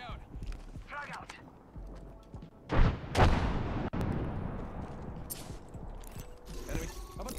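A frag grenade explodes in Apex Legends with a sudden loud blast and a short rumbling tail, set against a busy backdrop of game effects and a voice talking.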